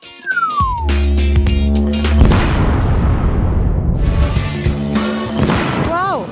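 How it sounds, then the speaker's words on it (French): A fake whipped-cream-covered cake trap explodes in a loud, sustained burst that spreads into a long noisy wash, ending with a few quick squeaky swoops. "cette explosion était encore plus énorme à quoi je m'attendais"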